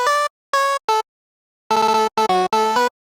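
Dry future bounce vocal chop lead with no effects, a bright synthetic vocal tone in clipped staccato bursts: three short hits, a pause, then a quicker run of chopped notes, loud and alone.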